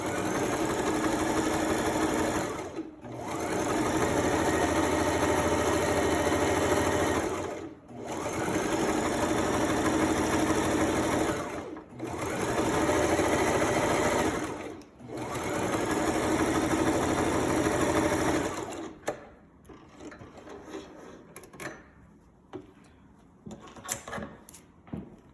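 A sewing machine running a zigzag stitch to join a sleeve to an armhole, its steady whirring hum in several long runs separated by brief stops, followed by quiet fabric handling and small clicks.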